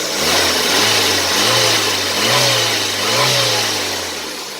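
A 1986 Buick Skyhawk T-Type's carbureted engine, with electronic fuel assist, idles loudly up close, then is blipped through several short rising-and-falling revs in a steady rhythm.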